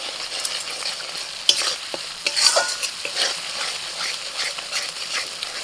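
A spoon stirs a paste of tomato, garlic, white mustard and dried chilli with turmeric, Kashmiri chilli powder and salt in a pan, scraping and sizzling steadily, close and fairly loud, with no talk.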